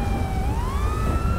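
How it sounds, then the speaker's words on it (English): A police car siren in a video game wails loud and steady, rising slowly in pitch, heard alone with no talk. "You gonna come here with these loud-ass sirens?"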